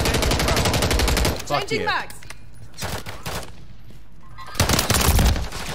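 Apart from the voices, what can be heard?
handgun fire in video game Call of Duty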